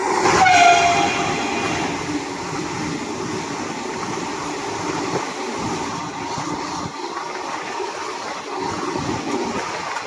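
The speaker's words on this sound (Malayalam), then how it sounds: "വന്ദേ ഭാരതിന് വേണ്ടി പിടിച്ചിട്ടതാണ് ട്രെയിന്" A train passes close by while the listener's train is held for the Vande Bharat express, with a brief horn at the start and then a loud, steady rumble of rolling wagons throughout.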